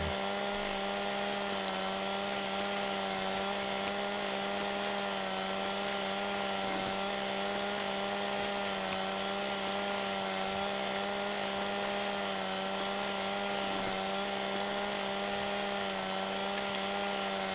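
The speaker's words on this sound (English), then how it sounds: "So I'm going to have to go hand do these now with my chainsaw." A steady, droning chainsaw engine cutting trees in Farming Simulator 15 runs continuously with a flat, buzzing hum and faint grinding, unbroken throughout.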